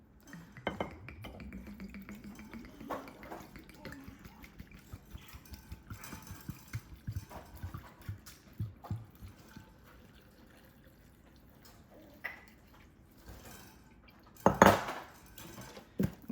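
Liquids such as vinegar and juice poured into a jar of fire cider ingredients, a series of soft splashing and trickling sounds with clinks of glass and utensils, ending in a louder clatter near the end.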